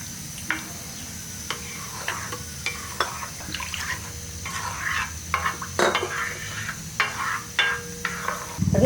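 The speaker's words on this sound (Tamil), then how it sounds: "குழம்பு வந்து இந்த அளவுக்கு கொதிச்சுக்கிட்டு இருக்கு" A pot of tamarind curry bubbles and simmers steadily, with occasional clinks and scrapes of a spoon against metal nearby; no one speaks.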